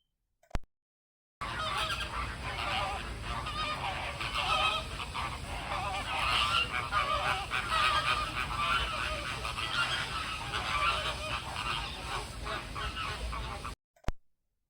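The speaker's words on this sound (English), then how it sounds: "These chatting flamingos were not the only birds I encountered on my visit." A flock of flamingos at Cologne Zoo keeps up a dense, continuous honking chatter, many birds calling at once in a steady, busy wash of goose-like calls.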